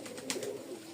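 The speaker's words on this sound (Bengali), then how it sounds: "রাজশাহীর গররা বা ফ্লোর নামে পরিচিত এই কবুতরটা।" A Rajshahi gorra pigeon, also called a floor pigeon, gives one soft, brief coo close by against a quiet background.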